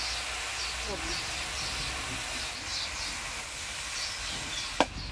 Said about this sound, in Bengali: দিয়ে দিচ্ছি কাটি রাখা লাউ, দিয়ে দেবো আদা জিরা বাটা, রাঁধুনি বাটা, হলুদ